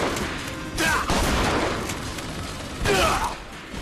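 Shotgun fire in the video game BioShock Infinite, with two loud, booming blasts about two seconds apart over a dense, noisy game background, with a faint voice partly underneath.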